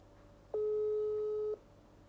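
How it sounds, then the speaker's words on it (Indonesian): A telephone call tone sounds while waiting for an answer: one steady electronic beep lasting about a second, starting and stopping cleanly over a quiet background, with no one speaking. "Kita coba langsung telepon si Tama guys"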